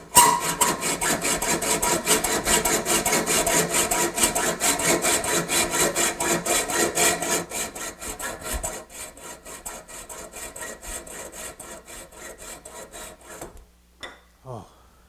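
A hand saw cuts a small wood inlay piece clamped in a vise, with loud, close, rapid rhythmic rasping strokes that slow and soften before stopping near the end.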